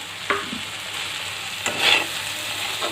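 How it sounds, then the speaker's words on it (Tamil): Fried eggs are stirred into sizzling masala in a pan, giving a steady close frying crackle with a few scraping stir strokes and a brief louder sizzle burst. "இப்போ நான் இதோட நம்ம ஏற்கனவே ஃப்ரை பண்ணி வச்சுருக்க முட்டையை இதோட சேர்த்துருவோம்"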